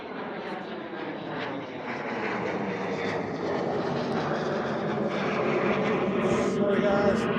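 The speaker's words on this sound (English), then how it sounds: "we get the Bombardier Challenger 350 going out" Bombardier Challenger 350 business jet departing Liverpool airport, a broad steady engine roar building gradually from a distance, with voices talking over it.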